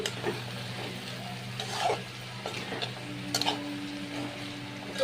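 Boiled chickpeas and potatoes fry in spiced masala in a pan, with a soft continuous sizzle broken by scraping stirs and light utensil clicks.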